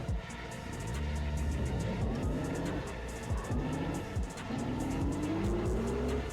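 Simulated car engine in a racing video game held near full throttle with the rear wheels spinning, a loud continuous roar with rising and falling revs and repeated upshift sweeps, played on a Moza R5 wheel.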